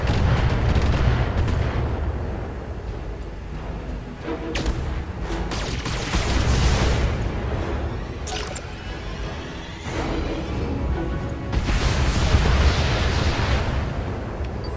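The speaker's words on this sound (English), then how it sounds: "Tracking missiles launched." Missile launches and explosions in the Battletech mech video game: a dense run of heavy booms and blasts, several rolling impacts in waves, loud and close, with no talk over them.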